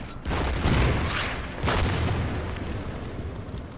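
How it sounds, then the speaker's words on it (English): An artillery barrage in the strategy war game Order of Battle, set on the Burma Road: two heavy booming blasts in quick succession over a dense rumbling roar, loud and continuous with no talk. "So let's give them a burst with the artillery."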